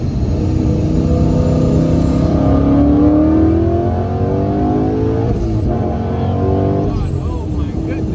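A supercharged, bagged Ford Mustang S550 GT making 760 wheel horsepower accelerates hard near full throttle, its engine note rising loud and steady over several seconds, with people talking faintly underneath.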